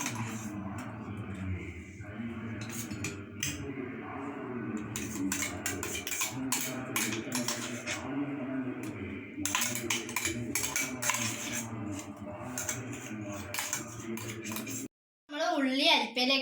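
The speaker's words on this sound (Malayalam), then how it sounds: "നമുക്കിത് അരിപ്പയിൽ അരിച്ചെടുക്കാം." Ground onion paste strained through a kitchen sieve, with steady scraping and metallic clinking of a spoon against the mesh and bowl, continuous over most of the stretch while voices chatter in the background.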